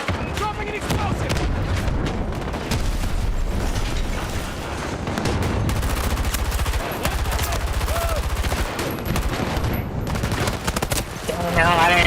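Rapid video-game gunfire and explosive blasts fill a shooter match, dense bursts of shots running almost continuously with booms mixed in, while a player talks over the action.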